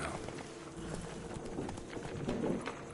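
Horse hooves clip-clop steadily in Witcher 3, a continuous mid-level trotting rhythm with faint ambient birdsong around it.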